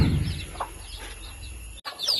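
Native country chickens, a hen with her chicks let out of the coop for the first time, cluck and chirp softly over a faint steady background, with a brief cut in the middle.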